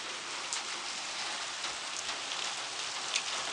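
Heavy rain pours down in a dense, steady hiss, with scattered louder drops striking a surface nearby.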